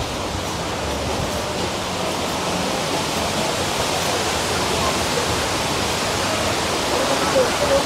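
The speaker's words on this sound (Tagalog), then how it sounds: "Narinig mo yung agos ng tubig." Rushing water at the Upper Wawa Dam in Montalban, Rizal, a loud continuous roar of flowing water that fills the whole scene without a break.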